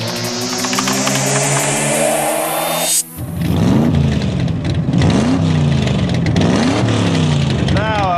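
High-performance race car engine revving hard, rising to a high whine, cutting off sharply, then revving again in repeated surging waves, loud and close, with a voice speaking over it.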